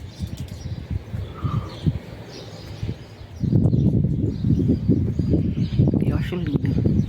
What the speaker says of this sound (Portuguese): Vamos ouvir um pouquinho o canto dos pássaros aqui na árvore em frente de casa.